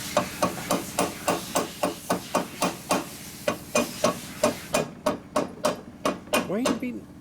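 A dowel is hammered into a Harley shovelhead motor during a rebuild, with about two dozen sharp metallic blows in a steady rhythm, close and loud, and a short pause partway through.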